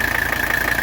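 1985 Mercedes 300SD diesel engine idling with the hood up, a loud, steady clattering thrum with even rapid knocking pulses, close by and without voices.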